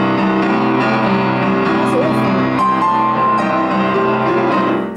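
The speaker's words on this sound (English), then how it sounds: "Now with the sustain pedal, it would sound like this." Piano playing a rolling boogie woogie pattern with the notes held and blurred together by the sustain pedal, steady and full throughout.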